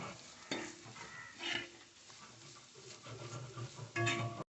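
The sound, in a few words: stirring masala unda mixture in a pan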